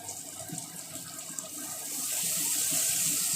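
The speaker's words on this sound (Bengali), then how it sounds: "সামান্য একটু জল দিয়ে দেবো" A small amount of water is poured into frying masala for an amodi fish curry, a soft trickle that swells into a steady, louder pour toward the end.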